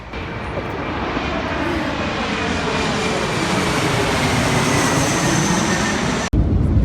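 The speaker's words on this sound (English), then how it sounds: "So we're touching down in Quito." Airliner touching down on landing at Quito, heard from inside the cabin as a steady loud roar of engine and rolling noise that holds for about six seconds, then cuts off abruptly.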